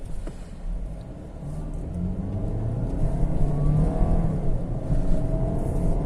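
A 2021 Hyundai Tucson accelerates with its engine drone rising steadily in pitch and loudness, a smooth continuous whir from inside the cabin, with no clear break for a gear change and no talking.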